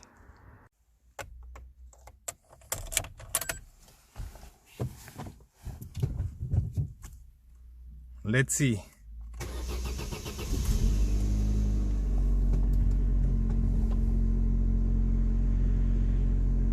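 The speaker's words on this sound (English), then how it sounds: "let's start the car." An Opel Corsa C car is handled with scattered knocks and clicks, then its engine cranks and catches, settling into a steady, loud, low idle that runs to the end.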